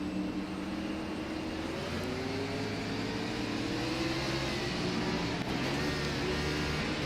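A race car engine on a racing video game at Charlotte Motor Speedway drones steadily, its pitch wavering as the revs rise with rear wheel spin or a missed gear. It is a continuous mid-level tone with no talk.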